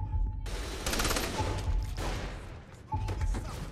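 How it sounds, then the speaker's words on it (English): A minigun in the video game Saints Row: The Third fires in long, rapid, loud bursts that come in several waves, with thuds and game effects mixed in and a voice briefly heard. "A fucking minigun?"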